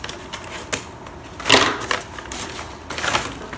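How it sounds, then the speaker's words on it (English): Paper being torn along a seam, a series of short crisp rips and crinkles, one louder tear in the middle, close and without talk. "I'm just going to tear along the seam."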